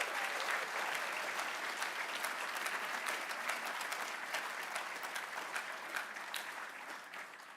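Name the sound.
applause for award recipients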